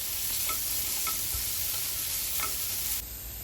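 Three chopped potatoes sautéing in a pan, a loud, steady sizzle with a few spatula scrapes and taps, briefly quieter near the end, with no speech.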